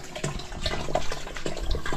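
Strong water flowing out for watering a farm near papaya trees, a steady, fairly faint rushing and splashing throughout, with no talk.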